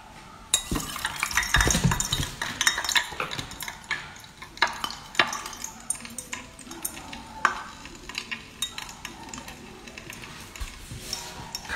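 Sea anemone dropped into hot oil at a street barbecue stall sizzles and crackles steadily, while utensils stir and clatter against the pan close by.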